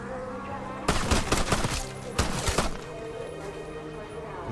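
Pistol gunfire in a zombie survival video game comes as two clusters of rapid sharp shots over a steady background hum of game sound.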